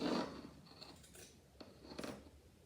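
Scissors snipping through a shirt, faint close crisp cuts, a few separate snips over a couple of seconds.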